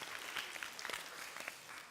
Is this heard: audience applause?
yes